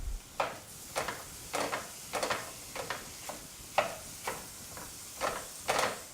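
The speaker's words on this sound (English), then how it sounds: "I'm going to keep crushing and mixing the meat until it's entirely cooked" A utensil crushing and mixing meat in a pan for an Italian casserole, making a regular run of scraping, rustling strokes about twice a second over a low background.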